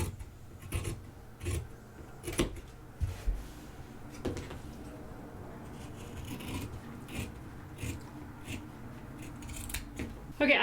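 Scissors snip through fabric for a jumbo tote bag in a run of quiet, irregular cuts with soft rustling between them, close and fairly faint.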